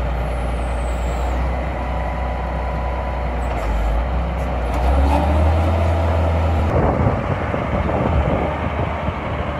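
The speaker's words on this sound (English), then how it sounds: "This is Josh running the skip loader, real good kid." A skip loader works at a rail siding while loading DDG, its heavy diesel engine rumbling loud and close throughout, with air-brake hisses and rattling machinery clatter rising toward the end.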